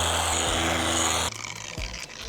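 Inexpensive $65 electric car polisher running on car paint, a steady mechanical whir that drops abruptly as the pad stalls under pressure, followed by faint rubbing and motor strain.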